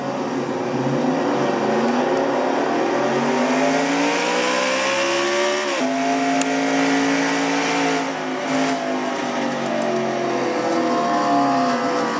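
A race car engine in a racing video game revs continuously, its pitch climbing and dropping through gear changes with a sharp shift midway, loud and close with no talk.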